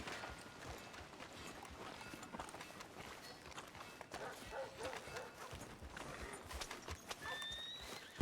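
Horse hooves clip-clopping at a steady walking pace on a street, faint and fairly distant under low background ambience.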